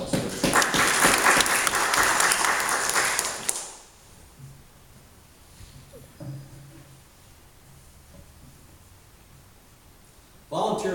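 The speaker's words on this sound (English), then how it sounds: "let's give a round of applause" A church congregation applauds volunteers, a loud dense burst of clapping that lasts a few seconds, then stops abruptly. Quiet room sounds and faint murmurs follow before another short burst of clapping starts at the end.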